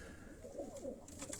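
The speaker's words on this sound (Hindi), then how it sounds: "ये कबूतर आपको दिखाए जा रहे हैं डॉक्टर शाहिद साहब के।" Pigeons at a pigeon-flying competition in Havelian, Hazara, giving a soft, faint low coo with a short rolling warble, heard alone against quiet background.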